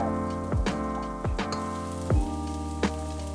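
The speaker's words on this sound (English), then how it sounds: "Add the onions and saute until a nice color for about 5 minutes." Onions sizzle steadily in oil and butter in a pan over medium heat, a continuous crackling hiss with a low hum beneath and a few brief louder pops.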